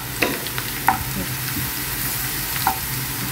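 Onions sizzling in a pan for mujaddara, a steady close frying hiss with a few faint clicks and pops, no voices.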